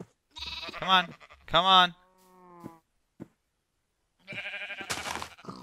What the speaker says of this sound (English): God, sheep are so annoying.